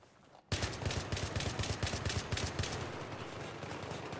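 Rapid automatic gunfire in the Battlefield 3 video game on the Metro map, a loud close burst of rattling shots starting abruptly and continuing steadily, with no talk over it.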